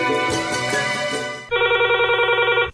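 A telephone rings for a call into a Hindi radio phone-in programme: a dense buzzing tone for about a second and a half, then a steady pulsing electronic ring that stops abruptly.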